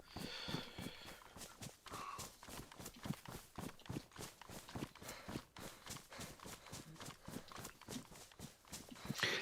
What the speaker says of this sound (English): It's just my footsteps echoing in the distance.